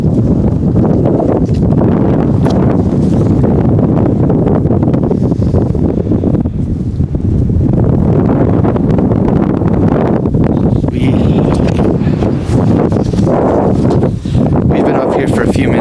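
Strong, steady wind roars and buffets the microphone on the cold summit of an active volcano, a constant loud rumble with gusty swells throughout, while people talk over it.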